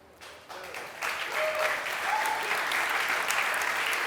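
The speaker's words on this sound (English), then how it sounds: "You should clap." A conference audience at a JavaScript talk breaks into applause that starts thin, swells after a second into steady, full clapping and holds at that level, with a faint murmur of voices underneath.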